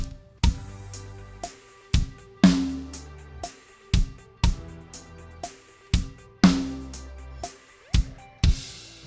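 A slow drum kit beat with sharp, evenly spaced hits: steady hi-hat ticks, booming kick drums and a crisp snare, played alone and close up.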